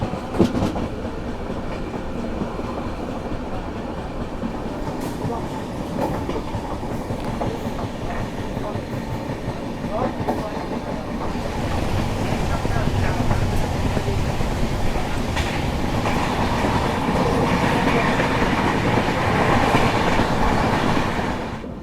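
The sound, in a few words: Humsafar Express train running through Assam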